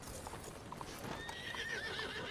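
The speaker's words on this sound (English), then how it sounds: "I'm going to put my horse right over here." Hooves clip-clop steadily beside a horse's whinny in a Western roleplay video game, close and clear throughout, with a faint rising tonal cue over ambient game sound.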